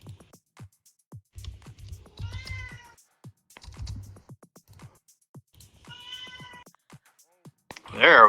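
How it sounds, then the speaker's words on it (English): A house cat meows and yowls in short, loud, strained cries over a streamer's room, with several separate calls spaced through the clip and a louder wail at the end, under intermittent clicks. "sorry if you hear my cat losing his mind"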